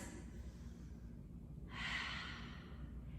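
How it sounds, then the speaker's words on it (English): One deep breath during a yoga flow, a soft drawn-out exhale that is faint and close, over a low steady background hum. "Take 2 deep breaths."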